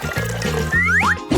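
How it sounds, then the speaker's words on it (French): Thick strawberry syrup mixture poured into a kitchen machine, a short close gurgling fill with rising bubbly squelches. "Il ne reste plus qu'à verser le tout dans la machine."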